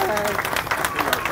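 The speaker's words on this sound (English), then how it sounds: "Can we give another round of applause?" Audience at a mural dedication breaks into a short, dense burst of applause, many hands clapping at once close by.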